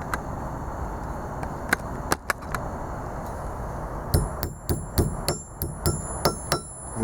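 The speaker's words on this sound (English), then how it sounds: "these things just hammer right out" A hammer strikes scrap building material to knock old nails out, ringing metallic hits scattered at first, then a regular run of sharp blows near the end.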